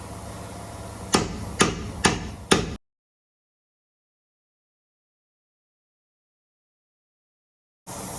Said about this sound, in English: Now we grab our hammer